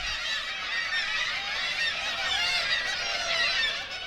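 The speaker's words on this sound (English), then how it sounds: "the majority of residents there must consist of seagulls" Seagulls call at Lowestoft harbour, a dense, loud chorus of overlapping shrill cries that keeps up continuously with no talking.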